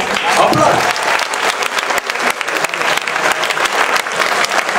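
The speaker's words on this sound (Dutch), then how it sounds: "graag een groot applaus voor onze dansklasse" Audience applause for a school dance class at a college arts party, a dense, steady burst of clapping throughout with some voices mixed in.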